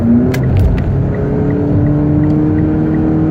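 Steady road roar and engine whir fill the cabin of a car cruising on a highway, loud and even throughout with no voices.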